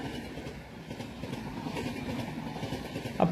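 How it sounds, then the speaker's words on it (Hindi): The Gitanjali Express, hauled by a WAG-7 locomotive, rumbles past with a steady low roll of wheels on track, and a sharp metallic squeal comes in at the very end. "ये गीतांजलि एक्सप्रेस वैग 7 के साथ चल रही है"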